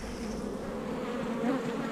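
Honey bees crowd a hive frame during a varroa mite check, a dense, steady close-up buzz with a constant hum and no voices.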